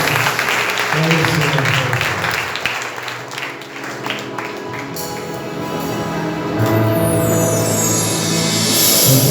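A church congregation claps together in a sustained round of applause at a worship retreat, mixed with voices, music and a rising hiss toward the end.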